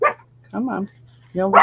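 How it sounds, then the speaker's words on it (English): Dogs bark at a neighbor walking down the street, giving a few sharp, close barks in quick bursts while a person talks over them. "Oh, and pardon my dogs. They see a neighbor walking down the street."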